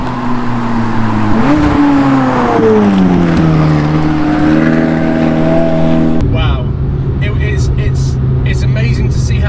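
A McLaren 540C, the entry-level model, fitted with a Larini exhaust, revs hard with a rising and falling engine note, then drops to a lower rumble as voices talk over it.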